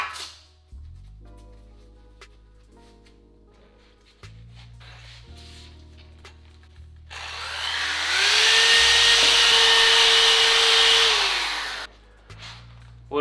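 A power tool cutting vertical slits into metal for a Honda CB650 cafe racer build, starting as a loud steady whine and grinding roar for several seconds over background music before cutting off.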